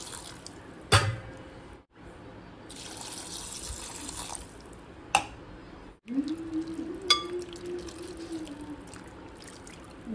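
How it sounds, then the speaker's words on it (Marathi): Cold water runs and splashes onto boiled pasta in a vessel, a faint trickling stream broken by a few clinks and knocks, with no talking. "तर आपण थोडं थंड पाणी घालूया"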